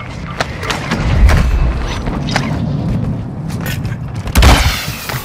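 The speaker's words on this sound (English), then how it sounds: "Mortar strike inbound now." Mortar strike explosions land in the video game Call of Duty Warzone 2, deep booming thuds, two heavier impacts among scattered cracks and clatter, with radio-style voices talking throughout.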